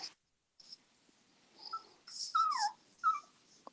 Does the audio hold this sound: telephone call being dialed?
no